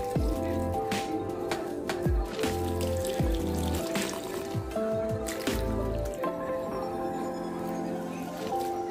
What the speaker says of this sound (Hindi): पानी डालेंगे यहाँ पे जल्दी से